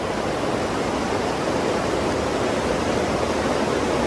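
Fast-flowing flooded creek, a steady, dense rush of water that stays loud and even without a break.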